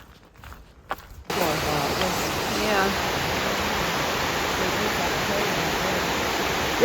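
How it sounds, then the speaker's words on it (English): A big waterfall on the Bartram Trail, near Warwoman Dell, roars as a loud, steady broadband rush. It swells in after a second of quieter trail sounds and keeps going without a break. "big old waterfall through there"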